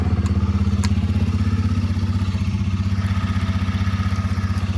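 A Royal Enfield Himalayan motorcycle idles after a cold start, its single-cylinder engine thumping in a fast, even, steady rhythm close by with a couple of faint clicks.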